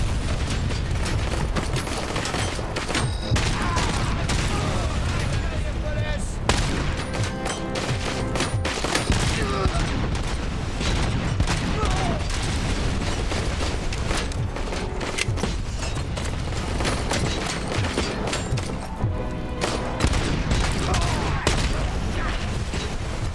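Gunfire in the RoboCop: Rogue City video game, with dense continuous automatic fire and booms layered with clanking mechanical noises, loud and unbroken throughout.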